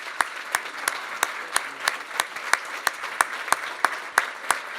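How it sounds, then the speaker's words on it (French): A standing audience applauds at a charity fundraising campaign event, a sustained wash of clapping punctuated by sharp, regular louder claps roughly every third of a second from one nearby pair of hands. "Je vais vous demander de vous lever debout pour applaudir notre résultat."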